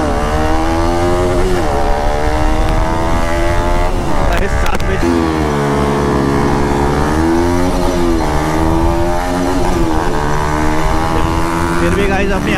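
RS 200 and RC 200 motorcycles launch in a drag race, loud engines revving and rising in pitch through several gear changes, close and continuous, with a voice talking over the roar.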